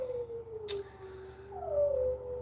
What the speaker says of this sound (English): them dogs are going crazy because the people left